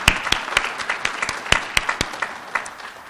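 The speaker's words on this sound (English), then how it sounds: "please join me in a round of applause for our" Audience at a college graduation recognition ceremony applauds veterans in the graduating class, a sparse, uneven clapping with distinct individual claps standing out over a soft bed of hands, fairly close and without voices.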